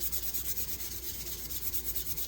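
Rhythmic back-and-forth rasping of sandpaper rubbing over an old Jim Dandy metal blade, quick regular strokes, close up with no talking.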